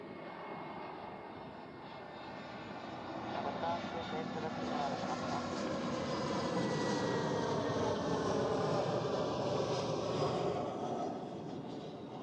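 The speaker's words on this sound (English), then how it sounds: "the Emirates A380 departure" An Emirates Airbus A380 departs Zurich Airport, its broad engine roar building from moderate to loud and holding before easing slightly, with a voice talking over it.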